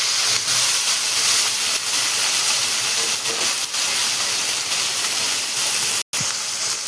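Cluster beans hit a hot pan with tomato and green chilli, giving a steady, loud hissing sizzle that runs unbroken throughout, briefly cutting out near the end.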